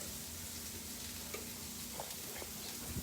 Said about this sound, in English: It doesn't take real long to get that cabbage kind of fried up.